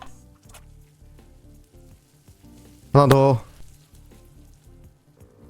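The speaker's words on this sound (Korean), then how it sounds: "패티 빨리 구워" Burger patty sizzling on a grill in a cooking video game: a short loud burst of frying hiss about a second long, rising over quieter kitchen game sounds, with people talking and laughing throughout.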